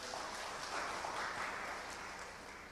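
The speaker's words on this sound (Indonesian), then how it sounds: "Berikan tepuk tangan buat Tuhan." Church congregation applauding during a sermon, a soft, sustained patter of many hands clapping that holds steady and tapers slightly toward the end.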